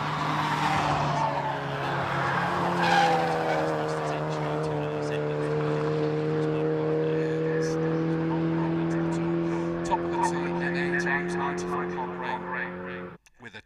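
Mark 1 Mazda MX-5 club race cars racing at Oulton Park, engines droning loudly with shifting pitch and tyres squealing as they corner, with a commentator's voice running over the track noise.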